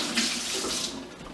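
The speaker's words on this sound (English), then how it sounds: "So I'm going to quickly wash my hands." A kitchen tap runs steadily as hands are washed under it, a close, continuous hiss of splashing water with no talk.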